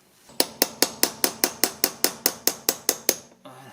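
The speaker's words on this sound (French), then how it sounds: "je prends un petit chasse-goupille, un petit marteau, je mets juste là-dessus" A small hammer taps a pin punch on the steering ball joint of a Dacia Sandero, about thirteen sharp, evenly spaced metallic strikes close by, with no talking.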